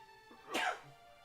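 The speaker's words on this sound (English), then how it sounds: "I have to sneeze." A single short sneeze bursts out at close range, a quick breathy intake followed by a sharp explosive release, alone in a quiet room.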